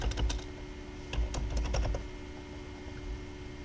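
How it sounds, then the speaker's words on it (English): Keys clatter on a computer keyboard in two short bursts of quick typing, close and clear, then a quiet stretch with faint electrical hum. "And I'm gonna type in tonight."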